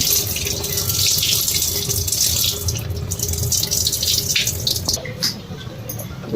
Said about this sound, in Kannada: ನಾನು ಇದನ್ನು ನೀರನ್ನ ತೆಗೆದು ಬಿಡ್ತೀನಿ